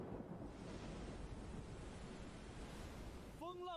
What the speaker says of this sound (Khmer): រលកខ្យល់កាន់តែខ្លាំង